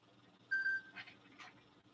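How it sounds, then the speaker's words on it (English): A phone rings with an incoming call: a short, clear electronic tone followed by a couple of softer bursts, moderately faint against a quiet room background. "That's a phone call coming in."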